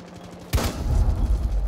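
Gunfire in the Rainbow Six Siege video game erupts suddenly after a near-silent moment, a loud, dense burst of shots with booming low rumble that keeps rattling on close by.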